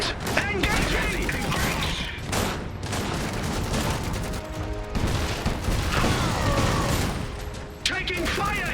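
Sustained battlefield gunfire in the strategy game Iron Harvest, dense overlapping shots and bursts with booms and clanking mechanisms, continuous and loud throughout, with voiced unit callouts mixed in.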